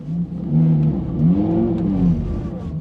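Engine of a rear-wheel-drive Lamborghini sports car revving steadily as it spins a donut on a snowy surface, a loud, continuous near roar with rising and falling pitch sweeps and no talking.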